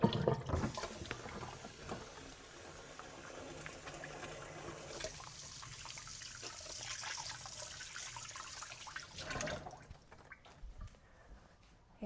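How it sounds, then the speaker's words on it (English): Hands are washed under a running kitchen tap: a broad, steady splash of water with handling noise that ebbs partway through, rises again, then cuts off as the faucet closes near the end. "Wash my hands."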